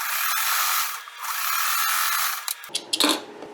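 Sewing machine stitching upcycled capri pants fabric, a steady mechanical whir running for about two and a half seconds with a brief dip, then stopping into a few scattered clicks and handling noises.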